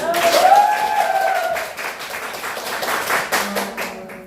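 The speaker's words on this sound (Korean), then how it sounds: "박수 한번 칩시다." An audience at a detox and healing camp breaks into applause, a short burst of many hands clapping together, with a brief tonal voice-like sound early on and the claps thinning toward the end.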